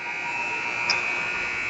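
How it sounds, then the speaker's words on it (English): Game-end buzzer at a youth hockey game, a steady sustained electronic tone held throughout against arena ambience, with a brief brighter blip partway through. "as the buzzer sounds"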